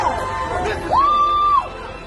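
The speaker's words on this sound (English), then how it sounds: "I want you tonight, yell as loud as you want to yell." A protest crowd at a Black Lives Matter rally against racism, a loud outdoor mass of voices with a single long, sustained whoop or yell rising above the crowd noise.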